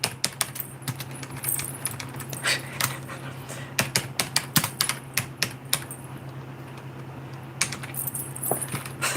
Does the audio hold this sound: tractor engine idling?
no